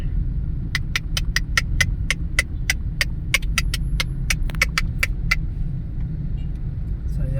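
Steady road traffic on Commonwealth Avenue, a continuous loud low rumble of car engines close by, with a run of sharp high ticking clicks through the middle of the stretch.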